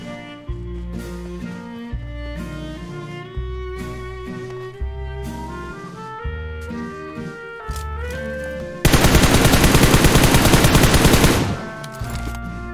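Rapid automatic gunfire bursts from the video game PUBG Mobile, a dense, loud rattle of shots that ends in a sustained roaring stretch of continuous fire, with no talking.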